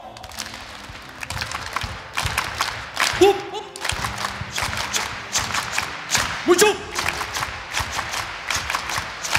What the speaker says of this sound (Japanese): 最後は3本締め、皆さんお手手出していきますよ